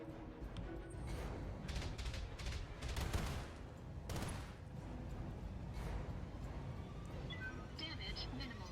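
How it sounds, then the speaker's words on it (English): All weapons firing from a mech in the Battletech video game, a rapid volley of blasts and bursts clustered early, then thinning into scattered impacts over ongoing game ambience. "Firing all weapons."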